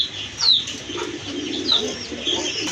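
A pair of Giribaj pigeons calls nearby, with soft coos and a few brief high chirps over a low, steady background murmur.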